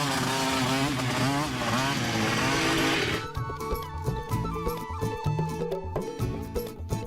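A cartoon motorcycle engine revs loudly and continuously for about three seconds, then cuts off and gives way to other softer sounds.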